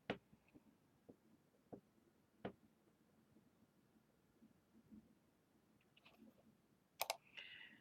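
A computer mouse clicks while pinning on Pinterest: faint, sharp, isolated clicks spaced irregularly, with a quick double click near the end over a quiet room background.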